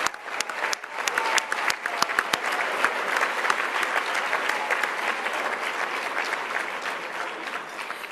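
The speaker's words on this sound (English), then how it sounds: "let's welcome them with a great big round of applause." Conference audience greets first-time VLC attendees with a great big round of applause, dense steady clapping from many hands that stays loud and even throughout.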